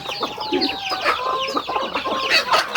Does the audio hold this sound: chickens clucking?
yes